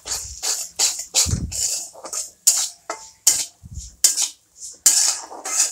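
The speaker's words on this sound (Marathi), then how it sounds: "एकसारखा हलवायचा आहे आपल्याला, तर हलवून घेऊ आपण" A spoon stirs semolina in ghee in a metal pan for sweet sheera, giving a string of sharp scraping, clinking strokes in uneven bursts separated by short pauses.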